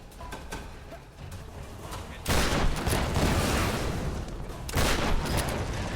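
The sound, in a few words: gunfire in video game Tomb Raider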